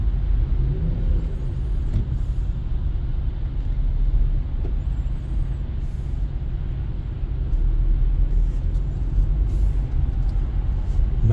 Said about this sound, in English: There's a lot of car in the freeway.